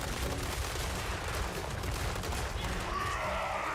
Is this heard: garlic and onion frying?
no